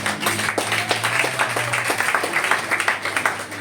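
A church congregation applauds in a dense, steady patter of many hands clapping, moderately close, with faint voices mixed in.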